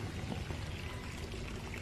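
Water starts running inside a cabin in a video game, a steady pouring, splashing stream that holds at an even level from start to finish, with no voices over it.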